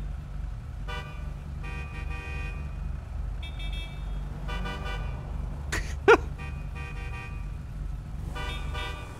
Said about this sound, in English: Don't fucking honk.